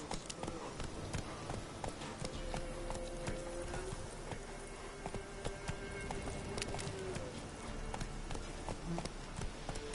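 Roach the horse gallops in The Witcher 3, a steady rhythmic clatter of hooves at moderate volume amid ambient game sounds, with a faint tonal drone in the background.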